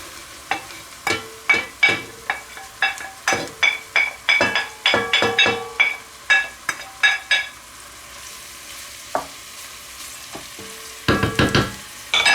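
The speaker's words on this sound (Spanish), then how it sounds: "la cebolla ya está empezando a pochar" Onion and leek sautéing in a hot pan give a loud close sizzle broken by repeated sharp stirring clacks of utensil on metal, a dense run of strokes, a quiet stretch, then another burst, with no talking.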